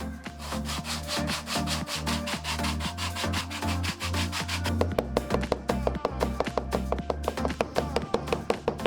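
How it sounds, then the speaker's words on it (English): Leather sheath edges sanded with 180 grit sandpaper, a close, continuous rasping rub in rapid back-and-forth strokes that turn sharper and more distinctly rhythmic in the second half. "When everything was smooth from sanding with 180 grit sandpaper"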